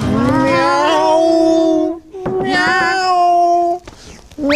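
A person imitates a cat with two long, drawn-out meows, loud and close, in a Romanian sitcom scene.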